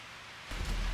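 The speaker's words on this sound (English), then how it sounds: "You guys hear the water?" Flood water rushes in the video game GTA 5 with a tsunami mod, a soft, steady wash of noise that suddenly swells louder and deeper halfway through.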